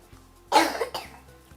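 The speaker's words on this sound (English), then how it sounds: "Can you cough for me? Just cough." A young boy coughs once, sharply and close, during a doctor's chest examination in a neonatal intensive care setting, with a brief follow-up throat sound.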